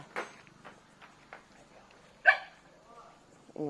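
A dog barks a few times at a distance, scattered sharp yelps separated by quiet gaps, with faint voices around.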